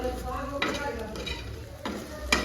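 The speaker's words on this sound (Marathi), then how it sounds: "इकडं माझ्या वड्या परतून झाल्यात बघा" Colocasia leaf rolls shallow-fry in a hot pan, sizzling steadily, with scraping stirs and a few louder bursts of frying.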